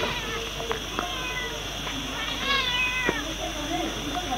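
A cat meows in a noisy indoor room, with a few rising, drawn-out cries over steady background din and people talking in Spanish nearby.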